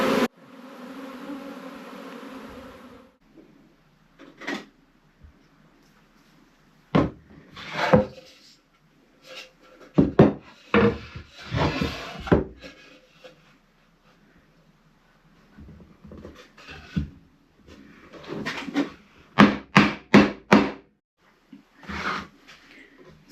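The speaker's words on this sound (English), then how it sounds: "So I'm assembling the brood box for the hive." Wooden parts of a beehive brood box are fitted together, giving scattered close knocks, taps and wooden clatters in irregular bursts, with a low steady hum at the start.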